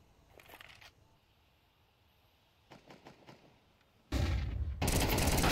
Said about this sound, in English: Red and Baby with a wild MP9 spray